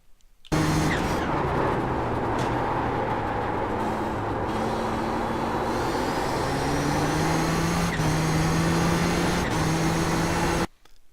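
Race car engine in iRacing at Barber Motorsports Park, loud and steady at speed, its pitch rising and falling through gear changes, with brief shifts and tire noise across a continuous lap section.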